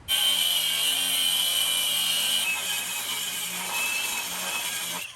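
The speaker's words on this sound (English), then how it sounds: "So the next thing Tanner's gonna cut off is the stud for the lower shock mount." A power saw cutting off the lower shock mount stud on a truck frame, a loud continuous high-pitched grinding whine held steadily throughout, close by with no talk.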